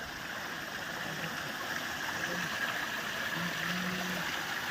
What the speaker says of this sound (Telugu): వాటర్ ఫ్లో ఎలా వస్తుందో.